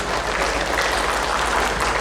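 A seminar audience at a civil-servant digital-skills event gives a round of applause after a professor's talk. The clapping is a dense, even wash of many hands, steady for the whole stretch with no voices.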